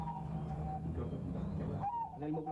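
Caged singing doves coo softly in low, throaty rolling notes, a short quiet stretch of calls overlapping against a faint background.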